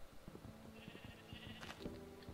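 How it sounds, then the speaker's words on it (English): Minecraft sheep bleat in a short burst of wavering, nasal calls against a busy game background, faint and brief. "Get some Bowman's sheep"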